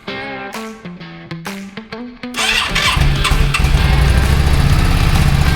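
A Yamaha 650 motorcycle starter cranks in a few quick whirring bursts after a long layup, then the engine catches and settles into a loud, rumbling idle.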